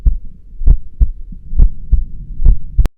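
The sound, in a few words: heartbeat sound effect in a horror story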